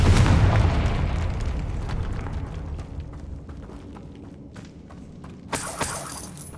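A Confringo blasting curse explodes against a barricaded archway in Hogwarts Legacy, starting with a loud low boom that rumbles and fades over several seconds, then a sharp crackling burst near the end, with no talk.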